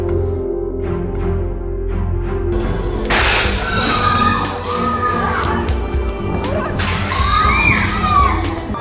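Angry crowd shouting during a violent street riot, with stones thrown at buildings; loud, dense yelling swells sharply twice over a constant rumbling backdrop, with no single voice standing out.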